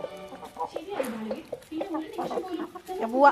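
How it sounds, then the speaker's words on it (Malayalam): Farm chickens cluck and call while being fed soaked feed, their close, busy clucking mixed with someone talking over them. "കണ്ട എല്ലാം നമ്മുടെ കോഴികളാണ്."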